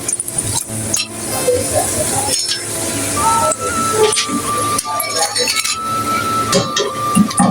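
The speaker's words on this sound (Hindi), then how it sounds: "इसमें खनक खनक करके आवाज आ रही है।" Crisp clinking and light rattling of crispy fried chicken nuggets against a metal pan, repeated irregularly over a background hiss and sizzle, close up.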